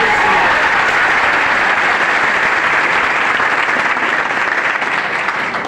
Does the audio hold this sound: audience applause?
yes